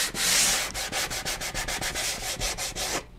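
A block sander works over a steel-string acoustic guitar top, giving a loud, close scratchy rasp in a quick run of about a dozen rhythmic back-and-forth strokes before it stops.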